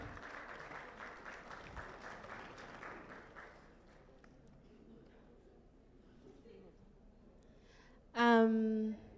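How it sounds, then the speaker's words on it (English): Audience at a girls' summit in Nairobi, Kenya clapping as panelists join the stage, a broad wash of applause that fades to a quieter murmur, then a sudden loud tonal voice or sound near the end. "So please clap for them"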